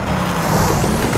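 Corvette Stingray engine in the racing game Need for Speed Nitro, a steady, loud, close-up drone with a low rumble that holds without a break.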